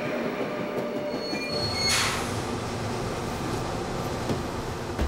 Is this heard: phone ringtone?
no